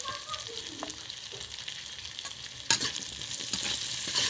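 Potatoes and eggplant fry together in a pan with a steady close sizzle, while a spatula stirs and scrapes at intervals, a couple of sharper clacks standing out near the end.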